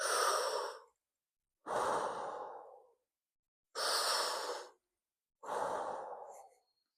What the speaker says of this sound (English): Now when we breathe through our mouth with that same thing, now take a deep breath in.